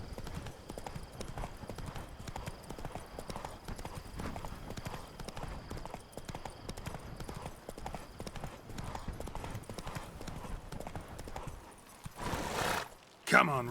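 Galloping horse hooves from The Witcher 3 game, a steady rapid clip-clop running throughout with an occasional whinny, while a voice speaks over it briefly near the end.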